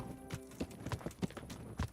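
Hooves clip-clop in a quick, even rhythm, a horse trotting at close range with no voices, in the video game Kingdom Come: Deliverance.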